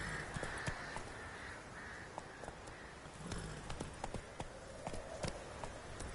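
Crows cawing in the video game Witcher 3, scattered harsh calls over a busy outdoor ambience with hoof clip-clops and footsteps, moderately loud and repeated.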